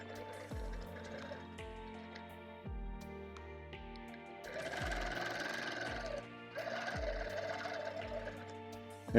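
Sewing machine stitching metallic thread in slow cruise mode, running as a steady mechanical whir punctuated by a repeating low thump roughly every second, close and moderately loud throughout.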